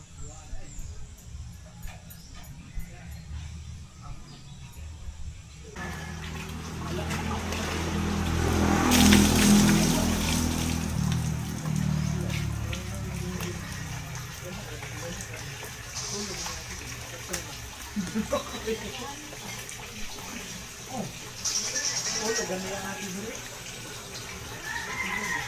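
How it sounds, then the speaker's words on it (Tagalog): Laundry is scrubbed and sloshed by hand in a river, with continuous water splashing and a louder surge midway. People talk nearby. "Labang ilog."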